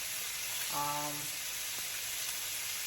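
Ribeye steak searing in a hot pan, a steady soft sizzle and hiss running throughout with no one speaking over it.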